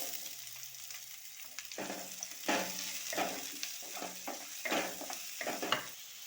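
Cumin and chopped onion frying in hot mustard oil, a soft but steady sizzle punctuated by repeated louder bursts and scrapes as the pan is stirred, close by with no talking.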